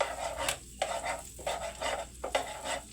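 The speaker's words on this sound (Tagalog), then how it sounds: "Butter po ang gawin nating panggisa. Next po ay lulunurin na po natin ang bawang. Halu-haluin po natin." Garlic sizzles in melted butter as a utensil stirs it in a pan, with a steady frying hiss broken by rhythmic scraping strokes about every half second, close and clear.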